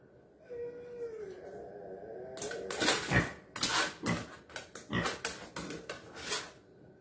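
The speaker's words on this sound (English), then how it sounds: "Are we opening up drawers again?" A mini pig noses at a kitchen drawer, making a run of sharp, uneven clattering knocks and rattles that follow an opening stretch of soft, drawn-out pig vocal sounds.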